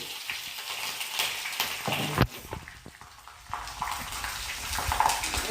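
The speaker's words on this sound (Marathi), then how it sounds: "त्याच्यात या 2 हिरव्या मिरच्या कापून घेतल्या, ह्या टाकू" Green chillies hit a hot Marathi-style tempering in a pan, giving a steady sizzle and spatter with one sharp burst around the middle, close and moderately loud.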